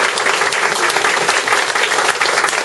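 A crowd applauding a teacher loudly and steadily at a gathering, dense clapping throughout with no break.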